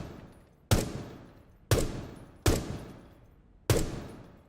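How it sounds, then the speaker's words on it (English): Four single gunshots ring out in Rainbow Six Siege, spaced about a second apart. Each is a loud, close crack with a long reverberant tail that fades before the next shot. "I shoot, shoot, shoot, shoot, and I just keep going"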